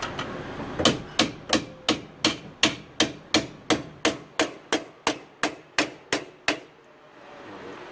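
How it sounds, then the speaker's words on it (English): Sharp metallic hammer blows strike a bolt about sixteen times in a steady, even rhythm while replacing a wheel bearing hub assembly, then stop, leaving quiet. "It'll be a little tough to swing that hammer."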